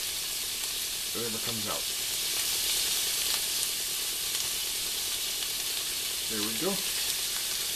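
Steak sauce sizzles and fries in a hot pan with coarse cracked pepper, a steady close hiss throughout, with a voice talking briefly.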